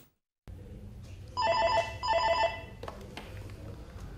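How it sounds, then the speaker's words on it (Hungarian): A telephone rings in a newly opened military recruitment office in Kiskunhalas, two loud electronic ring bursts in a row over a steady room hum, with no one speaking. "Már is folyamatosan csörög a telefon a ma nyílt kiskunhalasi toborzó irodában."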